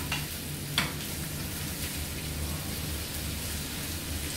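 Sugar stirred into cooked rice in a pan for a plain meatless Kabuli pulao, giving a steady soft scraping and grainy rustle with a faint sizzle, one brief louder clink near the start, no voices.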